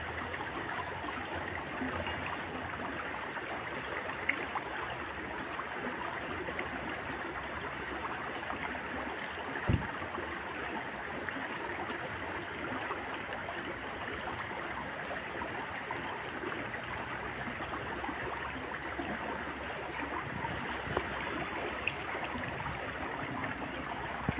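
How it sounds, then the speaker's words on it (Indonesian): An outdoor stream flows with a constant, even rush of water, unbroken throughout apart from one faint knock near the middle. "Masak-masak sambil dengerin suara airnya ya"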